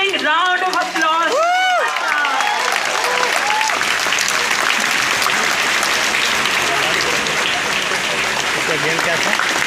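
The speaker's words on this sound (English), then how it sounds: "A big thundering round of applause." A loud, thundering round of applause fills a hall at a Ramjas College ceremony, rising right after a brief voice at the start into a dense, roaring sustained clapping from a large crowd.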